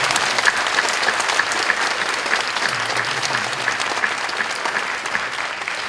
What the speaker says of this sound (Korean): 박수로 한번 환영합시다.